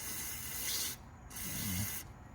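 Carb cleaner sprays onto a small-engine carburetor screen crusted with dried fuel powder, making two short, close hissing bursts separated by a brief pause.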